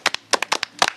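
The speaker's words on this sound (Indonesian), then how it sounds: "Tepuk tangan." Indonesian national football team supporters clapping hands, a quick rhythmic run of sharp, close claps in pairs and triplets, loud and alone.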